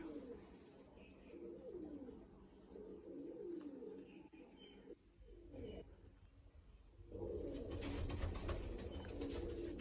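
A pair of Kamanghar pigeons coos softly and repeatedly at close range in a rolling, throaty rhythm, and a louder rush of rustling noise takes over near the end.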